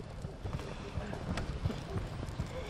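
A draft horse's hooves clip-clop in a steady, close rhythm on hard ground, mixed with people talking nearby.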